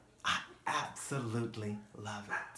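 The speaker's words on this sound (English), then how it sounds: "That's Peyton. That's my dog." Speech runs throughout, with a few short yips or barks from Peyton, the speaker's pet dog, mixed in close to the microphone.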